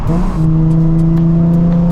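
Nissan 350Z with an aftermarket exhaust holds a loud, steady high idle or sustained rev, a strong droning note that stays level and close throughout with no talking.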